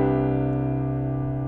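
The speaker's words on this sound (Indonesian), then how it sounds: "tinggal kita tambahin not ke-2-nya atau not ke-9-nya di oktav lain" A sustained major seventh chord with an added ninth in a higher octave, held steady and evenly, moderately loud with a slow gentle fade and no other sounds.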